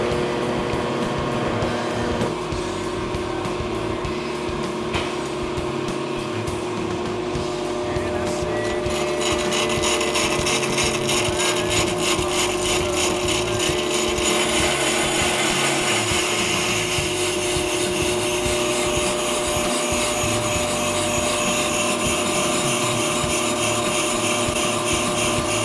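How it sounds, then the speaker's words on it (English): A machine cuts automatically, giving a steady, loud, whirring motor drone that runs unbroken throughout and turns brighter and harsher about a third of the way in. "Then set the machine for automatic cutting."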